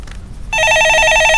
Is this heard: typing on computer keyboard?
no